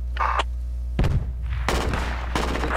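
Sniper rifle shots ring out in the military video game Project Reality, two or three sharp loud cracks with booming echoes over a constant low hum.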